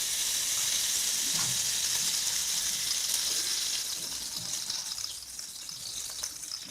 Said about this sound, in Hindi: ये हमने देसी घी इसमें डाल दिया।